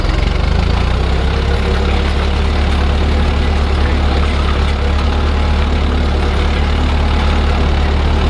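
A French-built Ferguson Type 30 tractor engine idles steadily close by, a loud, even low chugging with a regular knocking pulse and no speech.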